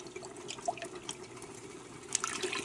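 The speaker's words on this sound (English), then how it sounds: "Just use a little water to rinse your can out" Tap water runs to rinse out a can in a home kitchen while making lasagna, a soft steady trickle with light splashes and drips, fairly faint.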